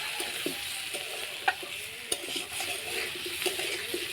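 A spoon stirs masala with Kashmiri red chili powder frying in a pan, a soft continuous sizzle with scraping strokes and a few sharper clinks against the metal, close and fairly quiet.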